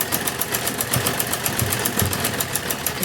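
A sewing machine stitches a cord loop onto a kurti round neckline, running in a steady, fast mechanical chatter throughout, close and continuous with a faint motor hum underneath.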